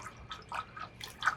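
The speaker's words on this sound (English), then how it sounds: "we have to stir the wort vigorously to aerate the wort" Beer wort sloshes and splashes as it is stirred vigorously in a brewing vessel, soft liquid swirls and drips repeating in quick irregular bursts, fairly quiet and close.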